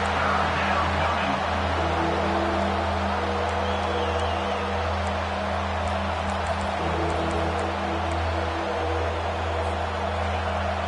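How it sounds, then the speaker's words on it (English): A football stadium crowd roars steadily during a third-down defensive stand in an LSU at Alabama game, a dense, sustained wall of cheering and noise with occasional whistles and shouts, loud and continuous throughout. "Decibels rising as the crowd gets behind this defense on third down."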